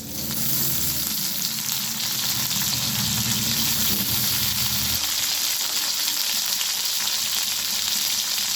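Ginger paste drops into frying potatoes in a pan, a loud close sizzle with a bubbling burst in the first seconds that settles into an even hiss.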